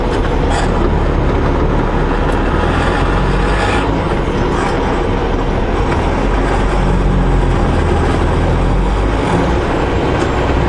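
Heavy truck engine driving on the Coquihalla highway in spring, a loud steady roar with rumble and road noise throughout, no clear gear change standing out.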